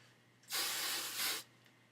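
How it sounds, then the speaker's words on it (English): One short burst of hairspray on a cosplay wig hisses for about a second, close and clear against a quiet room. "you're going to do a light coat of spray"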